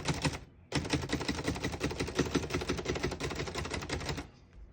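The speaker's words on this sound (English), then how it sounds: "We're going to keep it on single for now and finish typing." Rapid, even keystrokes on a 1937 Underwood Noiseless Model 77 portable typewriter, a dense close-up run of muted clacks lasting about four seconds after a brief pause, with no voices.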